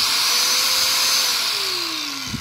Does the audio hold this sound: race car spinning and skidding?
no